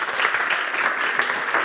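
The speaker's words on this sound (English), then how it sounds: "let's please give them a round of applause" A room full of people clapping steadily, a dense even patter of applause with no pauses.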